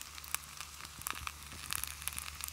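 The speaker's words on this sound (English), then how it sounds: "see if you can get a better sound of that sizzle" Quiet sizzling and crackling from bannock bread cooking over a campfire, with scattered sharp pops and ticks over a low steady hiss.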